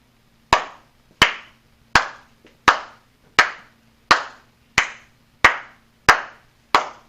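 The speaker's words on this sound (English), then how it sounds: "I'm going to clap every time the wave crosses the mouse" Ten sharp hand claps at a steady, even pace of roughly one every 0.7 seconds, each crisp and close with a brief decay, over a faint low hum and no talk.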